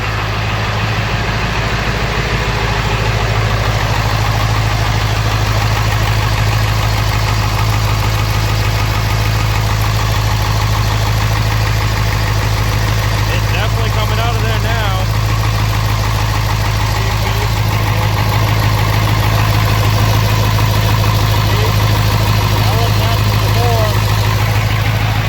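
A Ford 7.3L Powerstroke diesel in a one-ton dump truck idles slightly choppily after starting, a steady low rumble throughout with someone talking briefly over it.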